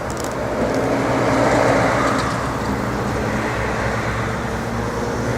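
Road traffic rumbles steadily in the distance, a low continuous drone of cars and heavy trucks with a slight swell early on.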